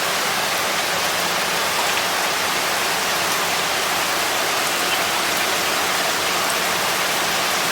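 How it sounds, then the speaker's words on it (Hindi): Steady, dense rain falls continuously after a night of downpour, a broad even hiss of drops with no breaks and no voices. "रात से लगातार बारिश हो रही है।"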